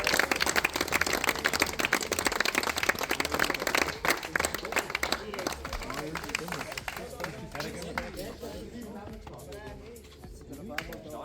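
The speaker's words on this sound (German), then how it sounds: "Ein riesen Applaus für Bambi Racing." Crowd applause for a kart racing team at a turbo-kart race in Wohlen, steady and dense at first, then thinning and fading, with voices and other noise mixed in throughout.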